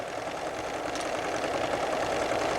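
A sewing machine runs steadily, stitching directly over an existing row of stitching along a commercially knit sweater seam, its continuous mechanical whir even and unbroken throughout.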